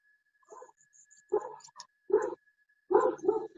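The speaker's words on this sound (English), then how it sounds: "my dogs are going crazy" Dogs bark in short separate bursts from a distance, several yaps spaced apart against a quiet background with a faint steady tone.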